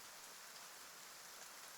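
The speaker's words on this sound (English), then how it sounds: "it's just a little rain" Light rain falls steadily, a soft even hiss of drops with no pauses and no voices, fairly faint throughout.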